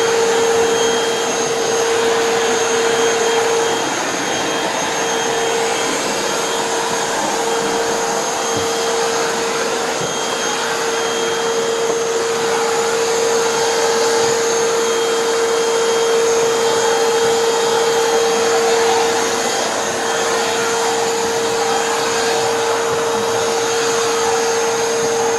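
A Sanitaire EXTEND Mighty Mite vacuum cleaner runs continuously and close by, giving a loud, even whine with a steady tone for the whole stretch and no voices.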